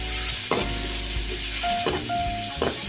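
Coarsely pounded ginger garlic paste frying in a pan for a simple egg gravy, a loud steady sizzle broken by three sharp spoon scrapes, close with a faint tonal whine.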